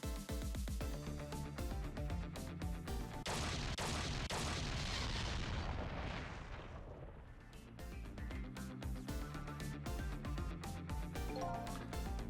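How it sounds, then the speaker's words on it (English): Explosions and booming blasts roll through a Ghost Trick Phantom Detective game scene, a dense rumbling burst building and fading over several seconds amid game music and effects, with no talk. "I think I heard an explosion somewhere."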